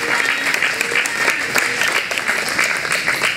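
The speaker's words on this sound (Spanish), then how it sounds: "quiero mencionarlos para que les den un fuerte aplauso" Strong, sustained applause from a crowd at a community foundation event, a dense and even stream of clapping lasting throughout with no voices over it.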